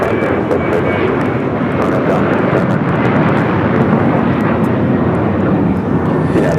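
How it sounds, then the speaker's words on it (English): A United Boeing 737-900ER airliner bound for Houston passes at LAX, its broad, steady jet roar filling the air loud and close throughout, with voices talking faintly beneath it. "This one's going to Houston Intercontinental United 2085. It's a 737-900ER."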